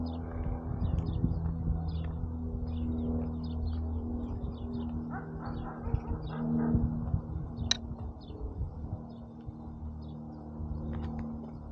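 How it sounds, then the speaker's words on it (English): A bunting (bluebird) calls near an old iron furnace and church, short chirps scattered over a steady outdoor hum with a distant vehicle. "they should call this, oh, it's a bunting"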